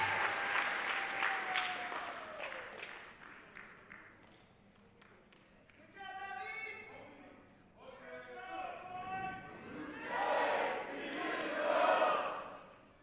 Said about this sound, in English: A round of applause for all of our cadre,